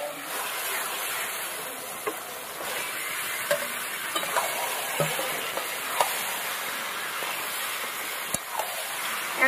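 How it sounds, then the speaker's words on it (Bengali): Marinated chicken meets fried onion and tomato in a hot pan, producing a continuous bright sizzle with occasional stirring clacks and scrapes, close and fairly loud, with no voices. "এবার মাখানো মাংসটা দিয়ে দেবো"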